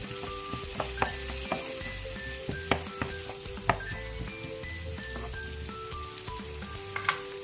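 Diced vegetables and finely cubed garlic sizzle steadily in a pan, with scattered clinks and scrapes of a utensil stirring them at close range.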